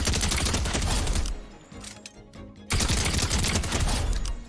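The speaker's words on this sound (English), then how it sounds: "combat SMG from 20 meters out" Fortnite combat SMG fire from 20 meters, a loud rapid automatic burst, a brief lull with clicks and a reload clatter, then another long fast burst.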